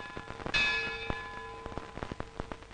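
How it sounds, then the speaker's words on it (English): The historic Lutine Bell at Lloyd's of London, London, rung once with a bright metallic clang that rings on and slowly decays, followed by scattered faint knocks and shuffling. "In a case of such importance, the historic Lutine Bell is rung"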